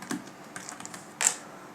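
Brief bursts of typing on a computer keyboard while entering text in Apple Motion, a few soft scattered keystrokes followed by one sharper, louder click near the end, close and quiet with no talk.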